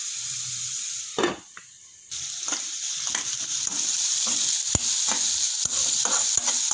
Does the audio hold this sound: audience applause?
no